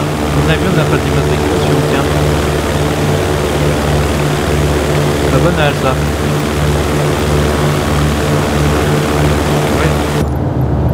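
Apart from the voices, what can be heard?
propeller airplane engine in Microsoft Flight Simulator video game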